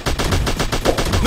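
Rapid automatic gunfire in an Android first-person shooter game, a loud burst of evenly spaced shots running straight through with no pauses.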